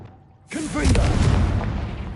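A Confringo blasting spell goes off in Hogwarts Legacy: after brief near-silence, a sudden loud boom erupts and rolls on as a sustained roaring, crackling blast.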